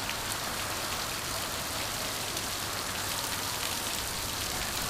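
Rain falls steadily in a dense, unbroken wash of noise, a constant hiss of drops hitting surfaces with no pauses, heard alone and fairly close.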